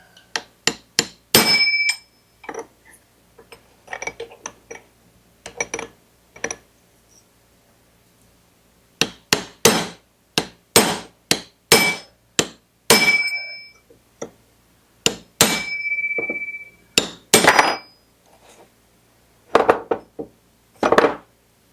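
Repeated sharp metallic hammer strikes on the clutch of a Husqvarna 141 chainsaw, hit in uneven bursts with pauses between, some blows ringing with a brief metallic tone.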